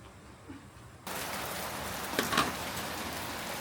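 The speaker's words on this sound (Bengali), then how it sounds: "বৃষ্টি পড়ছে" Steady rain falls over a rooftop garden, starting abruptly after a second of near-quiet and then holding as a continuous wash, with a brief louder patch of drops and rustle midway.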